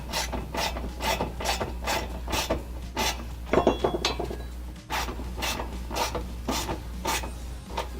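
A socket wrench ratchets in a steady rhythm of quick clicking strokes while a bolt is tightened on a car, with a short pause and fumbling mid-way over a low constant hum.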